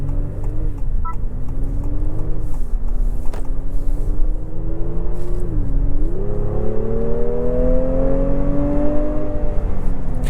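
A 2025 Honda Pilot's naturally aspirated 3.5-liter V6 VTEC engine in sport mode revs up through gears, the loud, near engine note climbing steadily with brief dips at shifts.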